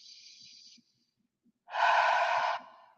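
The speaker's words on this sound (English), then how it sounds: "I can't overstate how important breathing deeply is." Deep breathing heard up close, with a short airy breath at the start, a pause, then a longer, louder, rushing exhale that ends abruptly, without speech.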